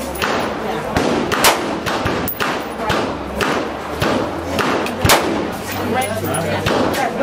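Repeated loud, close gunshots from a .223 rifle fitted with a suppressor-type Ecotec attachment at an outdoor gun range, sharp reports coming every second or so with brief thuds between.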